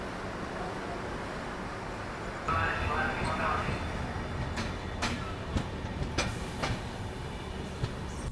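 Indian first-class passenger train pulling out and running, with a steady rumbling roll and rhythmic wheel clatter plus a few sharp clanks and squeals, close and continuous throughout.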